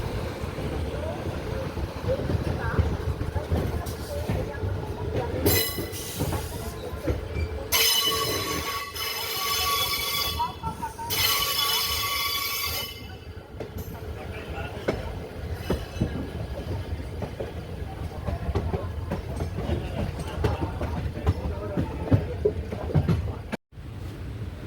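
Velankanni Express diesel train running, a steady rumble of rail travel with wheel noise and bursts of high metallic squeal, heard continuously from on board with faint background voices.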